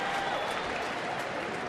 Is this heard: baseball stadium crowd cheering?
yes